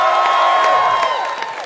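A comedy show audience in Pittsburgh applauds and cheers loudly, a dense wash of clapping and whoops that holds steady, then slowly tapers off.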